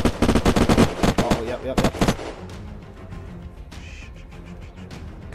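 Rapid automatic gunfire in the video game Unturned, a loud burst of repeated shots in the opening two seconds fading into softer game noise, with a brief spoken reaction.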